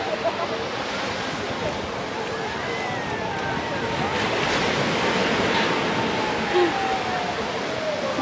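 Strong ocean waves at Shirahama Beach in Shizuoka, Japan, a steady roaring wash of surf with gusting wind over the microphone and a louder swell building toward the middle.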